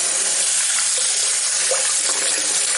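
Hot water streams steadily from a tap while hair is being washed, a continuous broad hiss of running water, close and even, with no voices.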